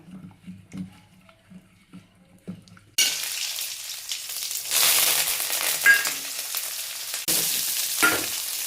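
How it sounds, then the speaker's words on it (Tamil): Cinnamon and dried chilies sauté in hot oil for a horse gram curry, a loud steady sizzle bursting in after a few quiet clinks and continuing with stirring scrapes to the end. "இந்த பட்டை மிளகாய் இதெல்லாம் வணங்குறது செம்ம வாசனையாக இருக்குது"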